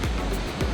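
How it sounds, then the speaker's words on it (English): Ocean surf rolls in at Santa Monica beach, a brief continuous wash of breaking waves, moderately loud and heard alone. "You got the ocean over here."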